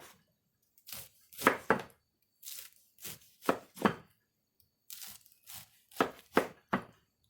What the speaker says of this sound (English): So you're just going to chop that up.